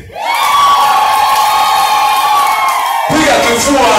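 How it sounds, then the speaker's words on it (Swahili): Women ululate loudly in celebration at a church service, a dense, close, high trilling chorus that sustains for about three seconds before it breaks into mixed cheering and shouts. "Piga vigelegele."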